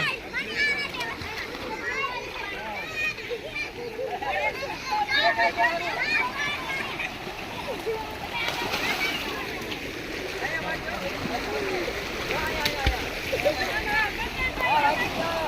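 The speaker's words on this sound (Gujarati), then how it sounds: "આ નાના બાળકો હાવ નાની કેનાલમાં નાહી રહ્યા છે" Small children bathe in a little canal, with steady water splashing and sloshing mixed with their high voices and chatter throughout, close by and continuous.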